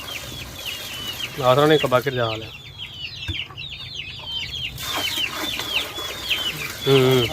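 Backyard chickens cluck and cackle close by in the rainy season, with bursts of clucking rising and falling while people talk nearby.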